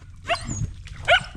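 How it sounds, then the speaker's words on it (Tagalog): A dog barks twice, sharp and fairly close, with a short gap between the barks over low background rumble. "Yung aso mga idol."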